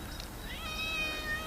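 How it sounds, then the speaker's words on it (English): A pet cat meows in a short plaintive cry, close by and fairly quiet, in a room with low background noise. "it's my cat's upset at me"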